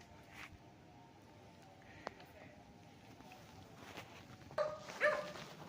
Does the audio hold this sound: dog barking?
yes